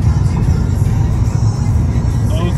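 A car cruising on the highway between Oklahoma and Texas gives a steady, close low engine and road rumble with constant tyre noise and no breaks.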